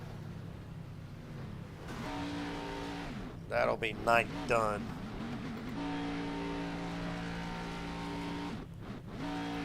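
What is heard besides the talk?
race car engine failing, video game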